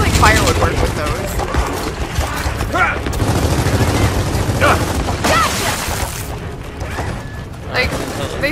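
Gunfire in Gears of War 4 aimed at a Snatcher creature rattles in repeated bursts amid booms and mechanical clatter, loud and close, while people talk over the shooting.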